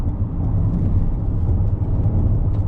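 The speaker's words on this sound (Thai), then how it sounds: "เดี๋ยวผมลองเปลี่ยนเลนด้วยความเร็วประมาณหนึ่งให้ดูนะ" Inside a moving Toyota Corolla Cross Hybrid changing lanes at speed on a real road: a steady low cabin rumble of road and engine noise, continuous and fairly loud, with no talking.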